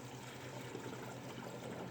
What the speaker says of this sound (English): It allows you to fill the radiator without having to wait for the radiator to take the fluid.